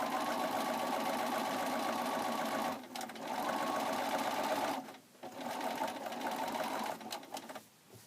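A sewing machine runs a quarter-inch seam during free-motion quilting, stitching in a continuous steady hum that pauses briefly twice before resuming, fairly faint but close.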